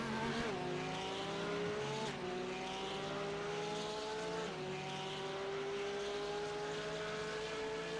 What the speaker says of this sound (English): Man, listen to that throttle.